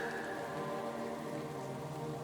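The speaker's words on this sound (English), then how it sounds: "Perhaps the first drops of rain begin to fall." Steady rain falls on an early-evening forest path, a soft, even hiss with no pauses. Sustained tones hum beneath it throughout.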